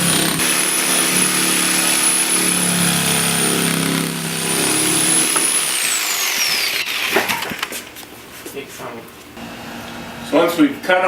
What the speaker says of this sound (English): go out in the garage and then cut the panel and bring it on in